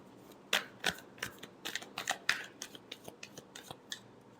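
Tarot cards are shuffled by hand close to the microphone in a quick flurry of crisp riffling snaps and soft flicks that slowly thin out, with no talking.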